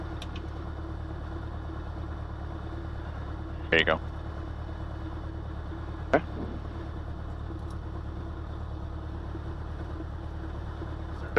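Small piston-engine aircraft on a night flight at Sarasota, engine leaned with a little more power, a steady mid-pitched drone running throughout under brief cockpit talk and radio chatter.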